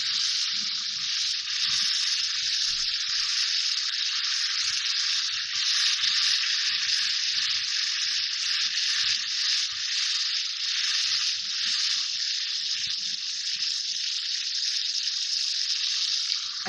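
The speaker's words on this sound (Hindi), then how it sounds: "फिर मैं इसमें मसाले डालती हूँ और मैं इसको भूनूंगी" Spices sizzle steadily in a pan as they are sautéed for chicken tikka masala gravy, a constant bright hiss with faint low clatter underneath.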